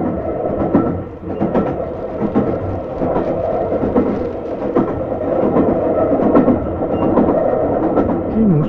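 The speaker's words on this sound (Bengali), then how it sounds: "মনে হয় ট্রেনটা এখানে কিছুক্ষণ দাঁড়াবে" A train stands at a station platform, giving off a loud, continuous rumble and clatter with irregular knocks over several seconds and no voices.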